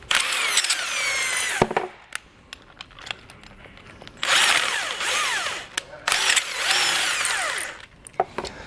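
A power tool with a 3/4 inch socket runs bolts through a Curt trailer hitch receiver on a 2022 Ram 1500, sounding in several loud whirring bursts separated by short pauses.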